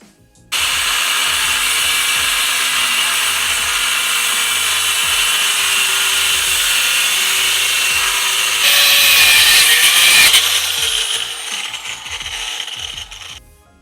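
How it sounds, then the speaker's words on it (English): Angle grinder cutting through a front crash bar on a Jeep JK, a loud steady metallic whine and hiss running nearly continuously, growing harsher and brighter for a stretch near the end before tapering off. "I did use angle grinder"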